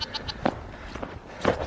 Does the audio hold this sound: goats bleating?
yes